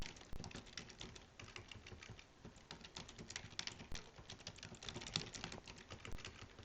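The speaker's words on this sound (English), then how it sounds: "I'm just going to type X bar" Quick, light keystrokes clatter on a computer keyboard in a steady, uneven stream of close clicks. They are fairly quiet, with no talking over them.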